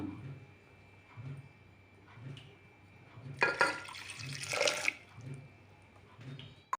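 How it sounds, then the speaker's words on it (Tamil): Quiet room tone, then a brief gushing splash of two glasses of water pouring into a soup pot for about a second, followed by faint dribbles. "இந்த சூப்புக்கு ரெண்டு கிளாஸ் தண்ணி ஊற்றுறோம்"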